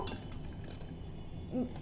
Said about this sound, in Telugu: మీరు కావాలంటే బ్లెండర్తో, ఇట్లా నేను చేస్తున్నట్టు విస్కర్తో, మిక్సీలో వేసన్నా చేసుకోవచ్చు